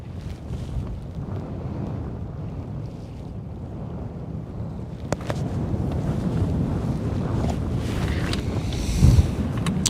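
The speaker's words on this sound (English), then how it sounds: "Oh, it's nice and breezy out here." Wind buffets a microphone on a bass fishing boat out on open water, a loud steady roar with rumbling gusts and a faint wash of waves. No one speaks.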